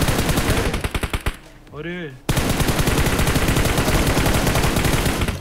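Automatic gunfire in the mobile battle royale game BGMI rattles in fast, rhythmic bursts, pauses briefly while a voice calls out, then resumes as a steady loud stream of shots.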